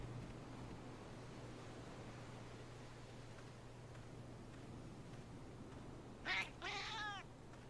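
In Metal Gear Solid: Peace Walker, a cat gives two short meows near the end, clear and fairly close, over a steady low hum and hiss of background noise, with no talk.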